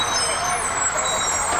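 School buses arriving during the 1990 Chelsea school flood, heard as a steady diesel engine rumble with a hissing, whining high tone, fairly loud and constant, with no clear speech.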